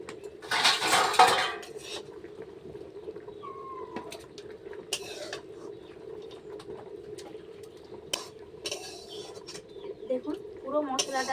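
Spice mix is stirred into khichuri in a cooking pot, with clinking metal spoon-on-pot scrapes in bursts over a quiet kitchen hum; a bird coos faintly in the background.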